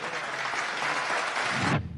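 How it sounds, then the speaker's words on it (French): A large audience at an awards ceremony claps steadily for an orchestra, a dense, even wash of applause that cuts off sharply near the end. "Applaudissez encore pour l'orchestre."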